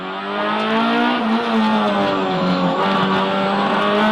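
A K20-powered DC2 Integra rally car launches hard from the start line at a rallysprint, its engine revving loud and close through rising gears with a continuous, strained high-pitched note.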